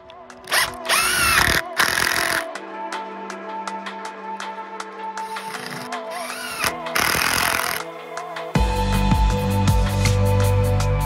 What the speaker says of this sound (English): drill straight through the wood, straight into the concrete